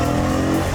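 A BMW E30 3 Series engine roars loudly and steadily, close up, in a brief burst of acceleration while shifting into third gear.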